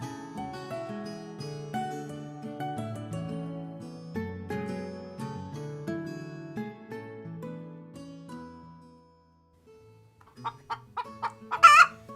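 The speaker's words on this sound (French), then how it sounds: "Poulette caquette de sa plus belle voix. Elle vient de pondre son tout premier œuf." Gentle music plays and fades out, then a hen that has just laid her first egg clucks loudly several times in quick, excited bursts.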